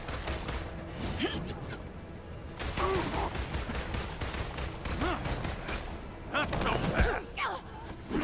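Gunfire and combat effects in Marvel's Avengers gameplay, rapid shots and mechanical clatter layered with music and game voices, heard under excited talk.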